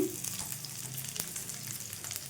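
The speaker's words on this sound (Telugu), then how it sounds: "మధ్య మధ్యన మూత తెరుస్తూ కలుపుకుంటూ వేయించుకోండి" Bitter gourd pieces fry in a pan, producing a soft, even sizzle close by with a faint knock or stir near the start and again midway.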